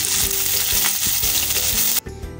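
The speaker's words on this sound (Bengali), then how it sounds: "তেল গরম হয়ে গেছে, আমরা মাছগুলো হালকা করে ভেজে নেব। মাছগুলো ভেজে নিচ্ছি।" Mourala fish frying in hot oil for pakora, a loud, steady sizzle with bubbling crackle that suddenly drops away near the end, leaving a quieter fizz.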